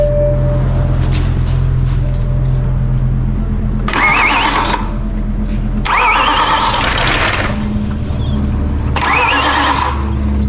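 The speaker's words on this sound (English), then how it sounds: "we're priming the engine prior to start" A BMW E93 M3 engine, recovering from rod bearing failure, cranks over without starting while oil is primed, in three separate bursts of starter whirring against a steady low background hum.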